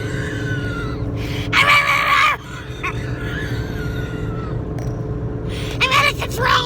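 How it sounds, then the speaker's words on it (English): A person screams wildly like a banshee in two loud, strained bursts over steady background noise and music-like drone, with a voice also present. "start screaming like a banshee"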